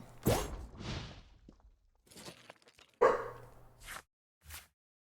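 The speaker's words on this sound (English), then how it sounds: "Sorry about the barking" A dog barks in short, sharp bursts, a few loud close yaps spaced out with brief quiet gaps between them.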